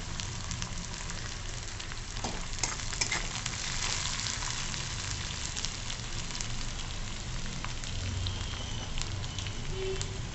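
Curry leaves frying in hot oil in a pumpkin dish, a steady crackling sizzle with small pops running evenly throughout, close and moderately loud with no talking.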